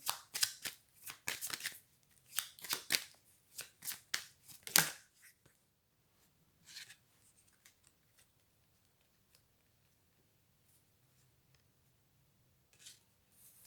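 A deck of cards is shuffled in quick riffling bursts for about five seconds, followed by quieter scattered card handling and long near-silent gaps.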